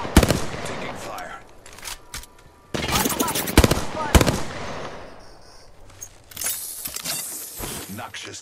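Automatic gunfire and single shots from Apex Legends ring out in loud, repeated bursts with sharp cracks, separated by brief quieter gaps filled with game ambience and scattered effects.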